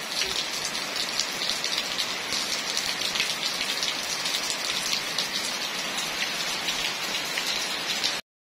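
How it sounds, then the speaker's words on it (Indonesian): Steady rain falls during Eid al-Fitr in Ponorogo, a constant dense hiss of drops on surfaces that stays even throughout, with no voices. "ini terkendala karena masih hujan ya"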